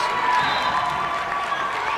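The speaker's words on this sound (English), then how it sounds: "the crowd applauds because their Jersey Blues are going to have possession" A basketball crowd at a college men's game between Brookdale Jersey Blues and Camden CC Cougars applauds and cheers steadily, a dense wash of clapping filling the gym.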